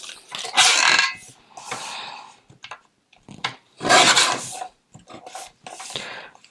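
Recycled Christmas card being trimmed, close scraping and cutting bursts in uneven strokes separated by short pauses.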